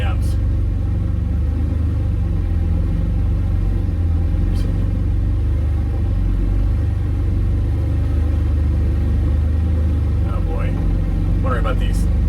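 A Can-Am off-road vehicle drives along wooded trails with a steady, close engine rumble that never lets up, and a few faint higher rattles and scrapes sit over the drone.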